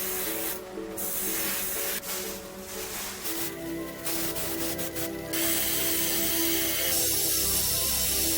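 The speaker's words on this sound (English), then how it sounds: "once the primer was completely dry, I sprayed on the base colors" Spray paint hisses steadily onto primed sci-fi mecha wargame terrain parts, broken by short pauses and clicks of the can, with a faint background hum throughout.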